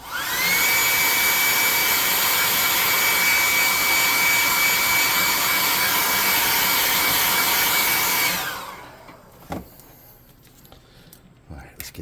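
A heat gun blasts with a loud, steady whining roar for about eight seconds while drying a freshly painted tabletop monster miniature, then shuts off and winds down into quiet handling sounds.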